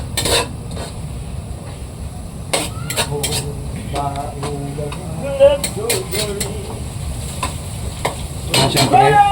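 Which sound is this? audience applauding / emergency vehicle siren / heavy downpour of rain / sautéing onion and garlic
sautéing onion and garlic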